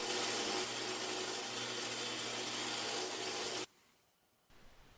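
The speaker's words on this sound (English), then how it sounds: "Turn the plunger base plate over and countersink the 2 holes with a 1/2 inch countersink bit." A drill spins a 1/2 inch countersink bit into holes in a plunger base plate, a loud steady grinding whir that cuts off abruptly, followed by quiet and a faint rustle.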